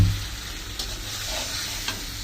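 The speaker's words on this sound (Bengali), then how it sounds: "মশলাটা কষাচ্ছি" Masala paste being stir-fried in a pan for a vegetable and lentil dish, giving a steady soft sizzle with occasional scraping strokes, fairly quiet and heard alone.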